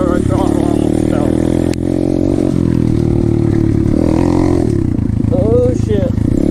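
An Apollo 125cc motorcycle climbing a hill in second gear, its engine revving loudly and close with a rough, steady drone, plus clatter and rattling from the bike, under bits of voice.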